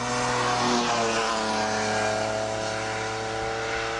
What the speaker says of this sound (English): what it sounds like a race car